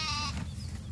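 Sheep in Farming Simulator 17 bleat loudly and close, a strong harmonic call in the first third followed by a softer flock murmur over a low rumbling game background.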